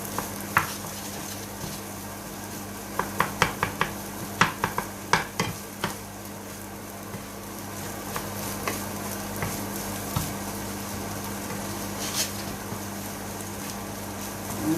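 Samosa filling stirred and cooked in a pan, with a steady low sizzle and hum under a run of sharp spoon taps and scrapes against the pan, clustered early and sparser later.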